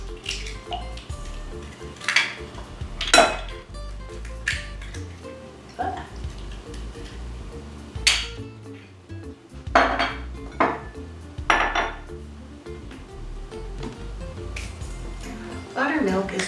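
Eggs and buttermilk are mixed in a bowl for hoe cakes, with clinks and scrapes of utensils against the dish coming in irregular bursts, mostly under talking.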